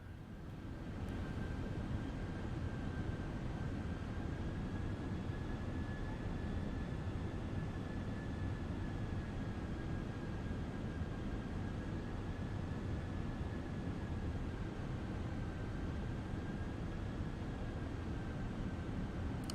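An Airbus A320 in Microsoft Flight Simulator gives a steady, even engine and airflow roar with a faint high whine on top, unchanging and continuous throughout.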